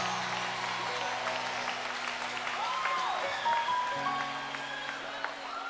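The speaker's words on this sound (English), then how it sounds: "Clap your hands to Jesus." A church congregation at a Kampala revival service claps along, a soft, steady wash of hands heard from a distance beneath a sustained musical drone and a few brief vocal sounds.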